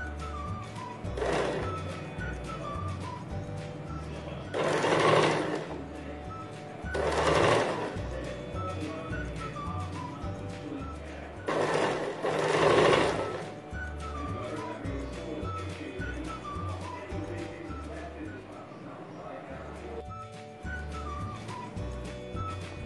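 A sewing machine stitches 2-inch folded bias strip piping onto a kurti sleeve in repeated short bursts of rapid mechanical chatter, separated by quieter pauses with a low background hum.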